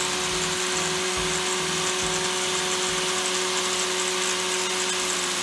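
A steady, continuous high-pitched whine of a drill-powered grinder grinding metal, with a constant loud hiss and no pauses, close by and without talk.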